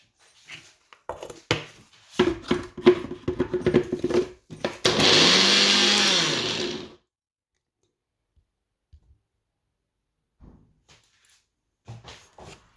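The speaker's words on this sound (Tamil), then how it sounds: "அதோட கொஞ்சம் மாவையும் கலந்து இதுக்குள்ளே போட்டு அடித்து அப்படியே உறுதி உறுதியாக வரும்" Batter with added flour being ground in a blender for Sri Lankan mung bean paniyaram: scattered clicks and knocks, then one loud, steady whir lasting about two seconds before stopping abruptly, followed by near silence with faint taps.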